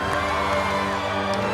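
A crowd cheering and shouting together in a dense, loud wash of voices, brief and close.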